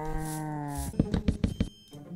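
A cow in the Minecraft video game lets out a long, sustained moo with a tonal, harmonic quality, followed by a burst of short, choppy game sounds.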